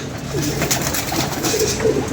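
Pigeons coo in soft, repeated low calls, close by and steady over faint background noise, with no voices heard.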